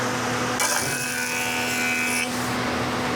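A facer (jointer) flattens the edge of a warped, twisted board. A steady, loud high-pitched cutting whine starts abruptly, holds for under two seconds over a constant machine hum, then cuts off.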